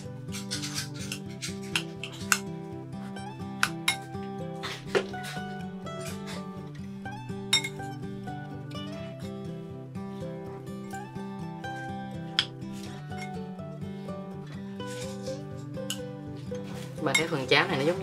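Eggs are stirred in a bowl for fried instant porridge, the utensil scraping and clinking against the bowl in a steady, close rhythm.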